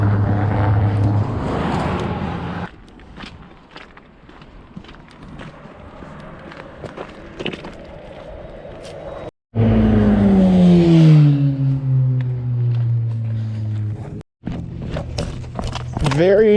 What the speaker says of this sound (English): I can see a car coming there, but it's far enough away.